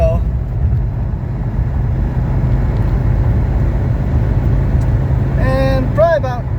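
A 1980 Mercedes 300SD driving out onto the highway, its engine and road noise forming a steady, loud low drone inside the cabin, with a brief voice-like sound near the end.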